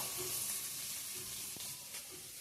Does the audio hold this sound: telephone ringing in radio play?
no